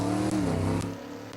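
Race cars roar loudly and continuously on a speedway during a heat race at a fall classic event, with steady engine drone and rising revs close by.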